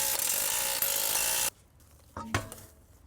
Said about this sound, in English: I'll start by removing the wheel. Size is 22 mm for the lug nuts.